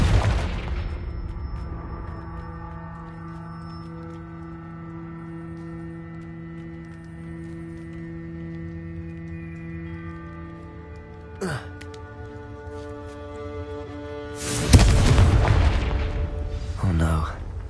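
Confringo blasting spell explosions in the Hogwarts Legacy video game: two sharp blasts, a brief one mid-clip and a louder, longer burst near the end, over a sustained musical game soundtrack.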